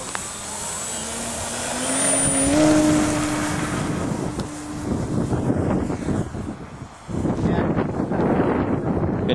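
A Sig Kadet LT-40 model airplane with a 60-size engine runs at full throttle, a steady high-pitched buzz that climbs in pitch early on, mixed with gusty wind noise on the microphone.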